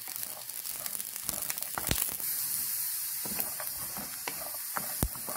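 Grated coconut sizzling and hissing as it fries in oil in a pan for a South Indian vadagam sambal, a steady crackling spatter with sharp pops scattered throughout.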